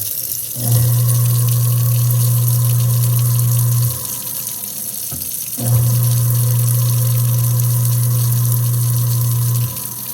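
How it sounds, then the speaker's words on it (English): A garbage disposal's steady low motor hum runs for about three seconds, stops, then runs again for four seconds, over a constant background of rushing water. "the one appliance that I do make sure we run is the disposal"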